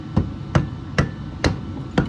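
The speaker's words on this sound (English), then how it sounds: "Take the old wooden hammer handle and give her a," An old wooden hammer handle taps an engine valve on a 6.0 build: five sharp, evenly spaced knocks about half a second apart, close and crisp with no talk.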